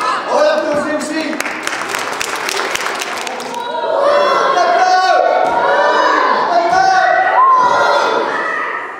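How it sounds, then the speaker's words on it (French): Brief burst of audience clapping and cheering at a show in the opening seconds, followed by a presenter talking as the crowd noise drops away. "On l'applaudit aussi."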